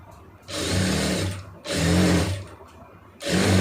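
A sewing machine stitches an armhole seam in three loud, close bursts of steady whirring, each about a second long, with short pauses between.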